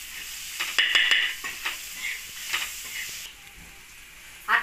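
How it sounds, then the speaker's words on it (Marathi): A spoon stirs turmeric and salt into an egg bhurji mixture in a hot pan. Soft sizzling runs under a few sharp scrapes and clinks against the metal, close and steady, with no speech. "आता मी छान असं सगळं एकजीव करून घेते"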